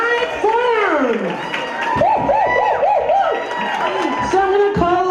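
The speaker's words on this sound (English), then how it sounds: "Round of applause for Abby and Ali, Unite Form." A crowd at a Canada Fashion Festival event cheers and claps for Abby and Ali, with loud whoops and shouts rising over the clapping and voices calling out close by.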